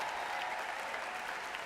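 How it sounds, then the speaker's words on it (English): A campus audience applauds and cheers for a new student, steady dense clapping filling the room without pause, with faint crowd voices mixed in. "let's cheer Sarah on"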